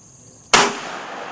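A single .357 Magnum revolver shot at an outdoor gun range: one sudden, loud crack that rings out briefly and then tails away, with no voices over it.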